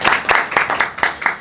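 A small group clapping close by, six or seven quick, evenly spaced claps in a tight rhythm lasting barely over a second.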